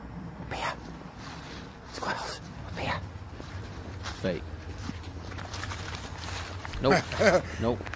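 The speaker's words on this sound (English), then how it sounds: "takes his cute little dog, Poppy, into the woods near his home" A small dog in a dark forest gives a few short barks and whimpers spread through the clip, mixed with footsteps and rustling, while people talk quietly over it.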